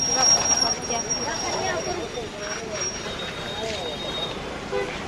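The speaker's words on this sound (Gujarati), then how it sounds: "તો ગાઈઝ બહુ ટ્રાફિક છે અહીંયા તો." Dense road traffic rumbles steadily with horns tooting now and then above the engine noise, fairly close, and a voice speaks briefly under the din.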